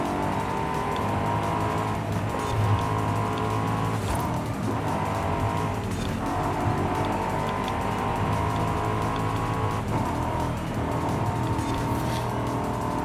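Cars race in Forza Horizon 5 from the cockpit view, engine roaring steadily with gear shifts and repeated tire squeals as the car drives hard through an open-world course.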